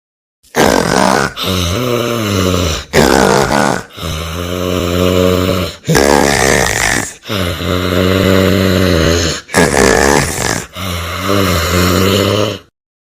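Loud, close snoring in repeated long, rumbling breaths with short pauses between them, each snore harsh and nasal.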